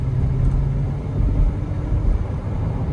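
A car on a test drive down a residential street at around 50, giving a steady, close, low engine and road rumble that holds an even level throughout with no talking.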